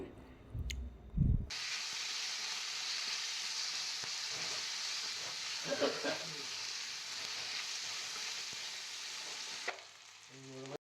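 Chopped tomatoes and onions drop into a hot pan for chole butter masala and fry with a steady hiss and crackle, with a few stirring clatters, close and moderately loud, before the sizzle briefly cuts off.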